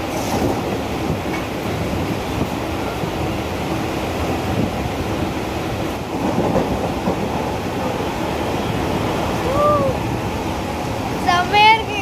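A train rumbles steadily along the tracks with rhythmic clatter, loud and close, heard from the open doorway of a passenger train nearing Ponneri station, with a couple of brief squeals near the end.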